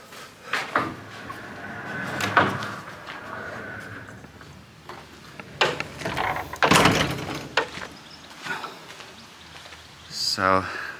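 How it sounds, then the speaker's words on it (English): A door on an oak garage extension swings shut with thumps, creaks and a solid knock, close by, and someone speaks briefly around it. "So let's close the door."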